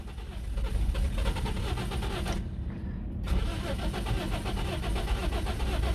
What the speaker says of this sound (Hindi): अब गाड़ी को लगाते हैं सेल्फ और इसकी कंडीशन जो है ना वो चेक करते हैं कि गाड़ी स्टार्ट भी होती है कि नहीं होती